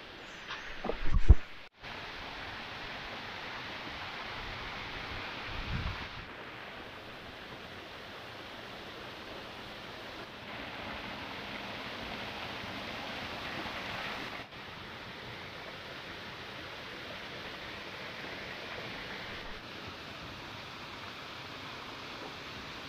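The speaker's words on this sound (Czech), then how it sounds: "Krásný vodopád." A waterfall near Lake Anapuri gives a steady, broadband rush of falling water that runs through the whole stretch, with a couple of brief louder knocks near the start and a small bump shortly after.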